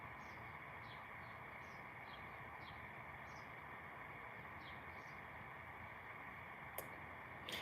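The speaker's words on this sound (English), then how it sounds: "I can't see no birds, but they chirping." Soft, repeated bird chirps sound faintly and at a distance over a steady, rumbling background noise, with a single sharp click near the end.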